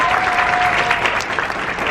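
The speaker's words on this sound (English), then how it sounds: "So can we all give a round of applause for her?" Audience applause for a woman performer at a women's showcase event: dense, steady clapping from a crowd, loud and continuous for the full stretch, with a faint tonal whistle early on.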